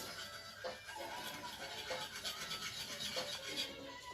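A whisk scrapes softly and rhythmically through a thickening sauce in a hibachi-style kitchen, a faint repeated stroking with no speech.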